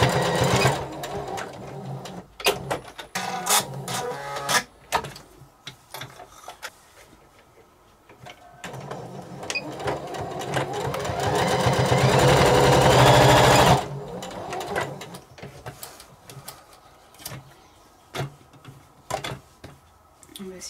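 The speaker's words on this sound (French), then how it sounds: "vous réalisez une couture au point droit sur toute la longueur au plus près possible du bord" A sewing machine runs a straight stitch along the edge of a fabric mask, with short bursts of needle ticking and then a long, loud, steady run that stops abruptly, followed by more ticks and handling.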